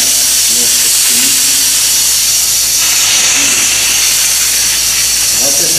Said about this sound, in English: we're just going to simply kind of fog the chair with a nice light mist of steam.